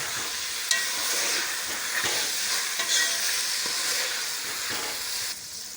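Beef keema with peas fries and sizzles steadily in a pan, a broad dense hiss with occasional scrapes and clicks of stirring, close and continuous without any voices.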